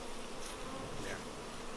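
Buckfast honeybees buzz continuously at close range while being transferred, a dense steady drone with no talking.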